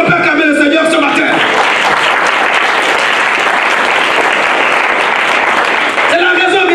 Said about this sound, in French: Est-ce qu'on peut acclamer le Seigneur ce matin?